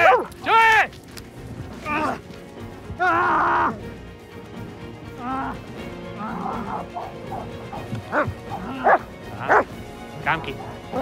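A city police dog barks and yips repeatedly during an arrest, loud sharp bursts alternating with whimpers across the whole stretch.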